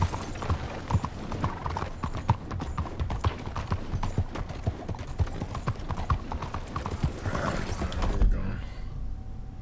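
Horse hooves clip-clop in a video game, a fast, steady run of sharp hoofbeats with a brief whinny, continuing until a sudden stop near the end while a voice talks over it.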